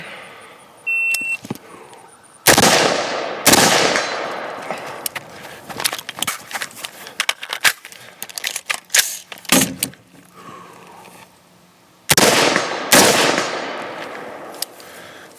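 A Knight's Armament SR-15 MOD2 rifle fires from a standing position outdoors, several loud, sharp reports spaced a few seconds apart with a pair close together near the end, each followed by a ringing echo and small clicks and rattles.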